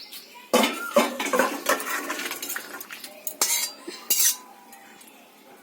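Rohu fish curry is emptied from a cooking pot into a serving dish: a spoon scrapes and clinks against metal in uneven bursts, with a few louder knocks near the end.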